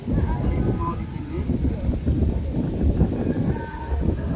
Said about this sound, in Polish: Nie wiem czy to słyszycie bo wiatry wieją.